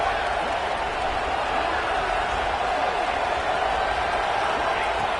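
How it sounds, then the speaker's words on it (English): Home crowd at a football game roars steadily throughout, a dense, continuous wall of cheering with no breaks. "this home crowd is fired up and ready to make a difference today."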